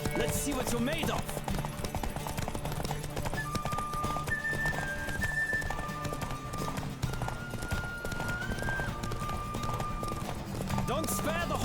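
Horse hooves clip-clopping at a gallop with whinnies and neighs in The Witcher 3: Wild Hunt, continuous and close over a game music bed, with voices shouting encouragement.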